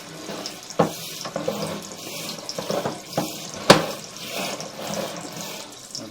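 Water runs through a sagging residential sewer line during a camera inspection, a steady close rushing and gurgling with a few sharper splashes and knocks.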